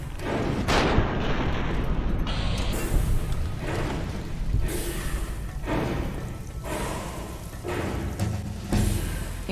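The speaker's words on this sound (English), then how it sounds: "That's the sound of an army" Army attack in the video game Fallout: New Vegas: dense, continuous gunfire with repeated heavy booms and explosions in a loud chaotic battle, with no talking.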